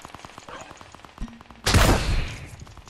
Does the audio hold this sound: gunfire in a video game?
yes